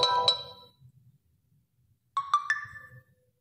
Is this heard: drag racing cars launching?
no